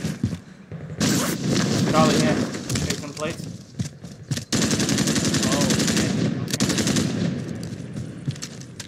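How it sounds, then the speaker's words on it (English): Bursts of rapid Uzi submachine gun fire in a Call of Duty: Warzone match, loud and close, in several sustained volleys with brief gaps between them, while players talk over the shooting. "I really like this pistol, this Uzi, the Merc flag one."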